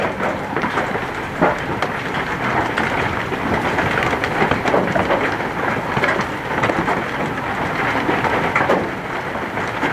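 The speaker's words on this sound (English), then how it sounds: "This is some big hail." Dense, steady clatter of large hailstones, about 1 inch across, striking hard surfaces during a storm in Lincoln, Nebraska, with scattered louder impacts throughout; no voices.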